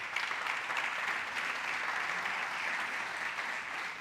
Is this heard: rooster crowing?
no